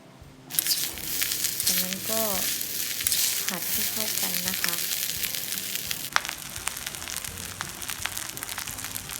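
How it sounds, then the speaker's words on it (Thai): Freshly cooked hot rice stir-fried in a pan for canned fish fried rice, giving a continuous sizzle with scraping stirs and a few brief tonal squeaks early on, fairly close and steady throughout. "ข้าวสวยเพิ่งหุงร้อนๆเลยนะคะ แล้วก็เอามาผัดนะคะ"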